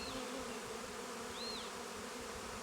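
A dense, even drone of honey bees fills the air at a hive where colonies are being united, with one faint high chirp rising briefly over the swarm noise.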